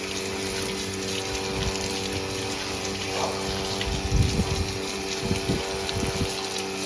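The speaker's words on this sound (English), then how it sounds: "And this is with no real pressure, just water pouring over it." Water pouring from a hose at low pressure over a fiberglass boat being rinsed, a steady gushing and splashing wash with a faint constant pump hum underneath and some louder splashes near the end, no talking.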